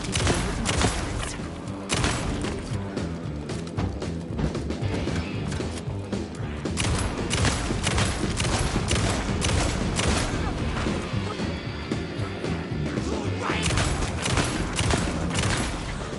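Alan Wake 2 gunfire: repeated loud shots and heavy thuds come in bursts over a tense, dense game soundscape, with occasional game voices.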